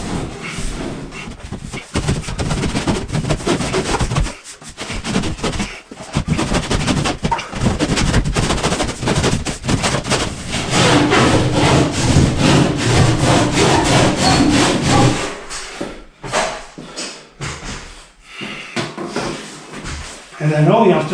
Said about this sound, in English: Okay, I use my very old saw to go through here